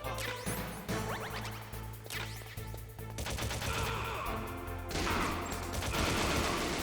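Gunfire in the stealth game Metal Gear Solid on PS1, rounds striking a wall: repeated bursts of shots with sharp impacts and crashing hits over a low droning background, loud and busy throughout, no talking.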